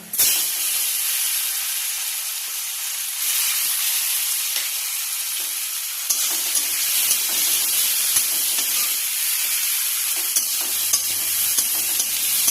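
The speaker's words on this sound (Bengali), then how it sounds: "এখন পেঁয়াজ আর টমেটো কুচিগুলি দিয়ে দেব।" Chopped onion and tomato drop into hot oil with fried garlic and fry with a loud, sustained sizzle and hiss, stirred at close range, the sputtering shifting after the pan is disturbed midway.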